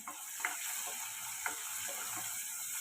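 Okra sprinkled with salt is stirred as it fries in a pan: a soft, continuous sizzle with scraping and clicking of the stirring utensil at irregular moments.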